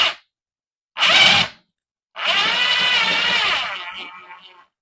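A power drill bores into a wall for a plate carrier mount, three separate bursts: a brief whine, a short buzz, then a longer grinding run that winds down, close and loud with silence between.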